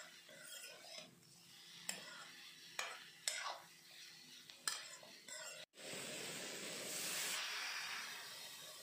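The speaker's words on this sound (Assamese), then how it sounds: "এতিয়া এনেকৈ ইয়াক ভাজি থাকিম লাহে লাহে।" Pork with onion, salt and turmeric stirred slowly in a pan, a soft continuous sizzle broken by regular scrapes and clinks of a spoon, then a louder steady hiss toward the end; faint whispering may be present.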